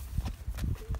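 A few hollow hoof clops from a horse walking nearby, irregular and fairly soft against quiet outdoor background.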